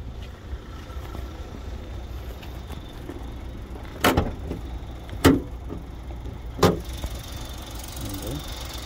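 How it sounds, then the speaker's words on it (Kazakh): The hood of a white 2020 Kia Morning with a 1.0-litre petrol engine is opened, giving three sharp, close metallic clunks a second or so apart over a quiet background. "Капотун ачып көрөлү."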